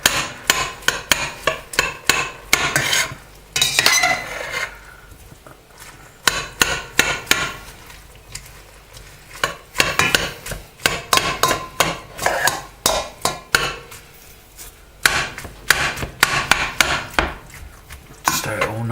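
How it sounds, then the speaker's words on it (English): Food stirred and broken up in a pan, a busy run of close, sharp knocks and scrapes of a utensil against the pan in an uneven, rapid rhythm with short pauses. "Stir it all nicely. So I want to get it all broken up."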